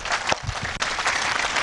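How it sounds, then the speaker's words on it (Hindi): A large crowd at a Swami Ramdev Bharat Swabhiman Yatra rally in Uttar Pradesh bursts into loud, dense applause, continuous for the short span with a brief dip midway. "इसके लिए भी एक बार जोरदार तालियां हो जाए।"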